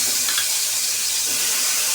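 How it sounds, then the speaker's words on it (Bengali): Bitter gourd fries in hot oil in a wok, a steady, dense hiss and sizzle that stays loud and even throughout, with no talking. "করলাগুলিকে সুন্দর করে একটু ভেজে নেব"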